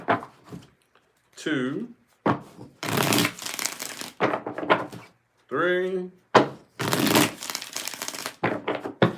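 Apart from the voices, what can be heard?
shuffling a tarot card deck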